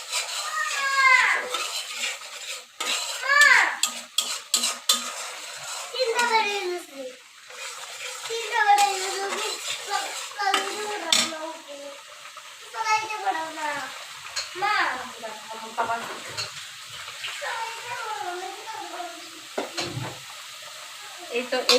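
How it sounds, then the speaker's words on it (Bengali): Spice paste being stirred and fried in a pan while preparing a bottle gourd and dried fish curry, with a soft scraping and sizzling bed under steady talking and high child-like voices throughout. "একটু হালকা জল দিব মশলাটা কষানোর জন্য।"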